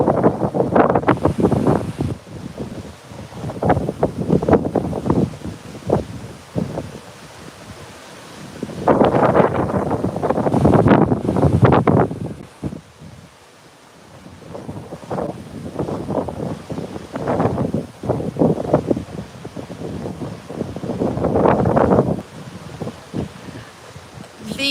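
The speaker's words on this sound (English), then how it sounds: "The wind is blowing super hard." Strong gusty wind buffeting a microphone on a Gulf of Mexico beach on a stormy day, rough bursts rising and falling with surf roaring underneath, loud and close, no talk.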